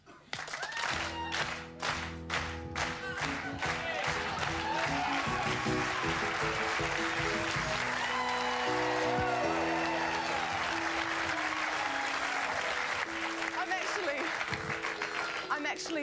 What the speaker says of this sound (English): I need you all to clap.